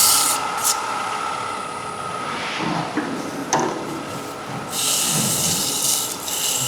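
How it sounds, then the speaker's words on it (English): Fine sandpaper scuffs a wooden lid spinning in a chuck on a lathe, a soft hissing rub with a few brief louder passes, close and alone. "just a quick scuff with fine sandpaper"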